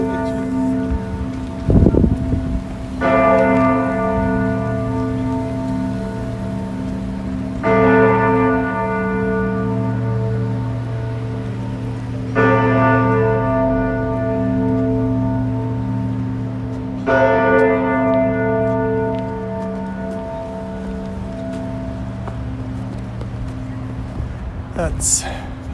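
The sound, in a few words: church bells ringing at City Hall, Toronto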